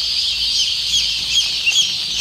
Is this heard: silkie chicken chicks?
yes